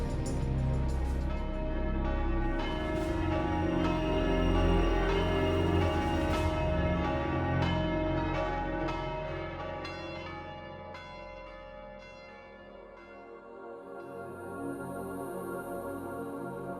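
Eight bells of a cathedral ring together in a dense, sustained peal that fills the air with overlapping resonant strikes, slowly thinning and fading toward the end.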